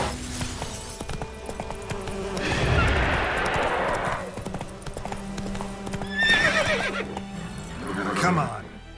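Horse hooves clip-clop at a gallop in The Witcher 3, with a neigh and whinny rising partway through; a voice urges the horse on over the steady rhythmic hoofbeats.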